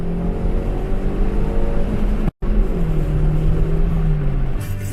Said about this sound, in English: Last pull in the Starlet, second gear.